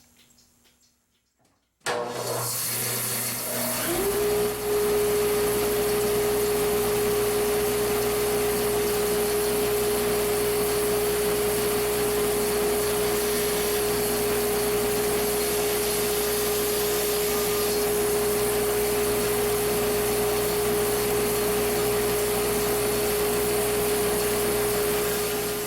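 A bandsaw switches on after a brief quiet moment and settles into a loud, steady motor hum with a sustained whine while trimming small pieces of wood, running on without pause to the end.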